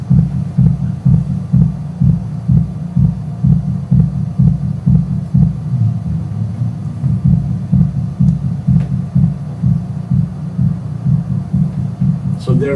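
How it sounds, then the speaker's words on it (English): A repeating electronic kick drum pulses in a steady rhythm with its low end thinned by a high-pass filter, the thumping gradually weakening as it fades down, with no voices. "there is some sort of a high-pass filter on the kick, which is taking away bass from the kick, and the kick is slowly also fading down"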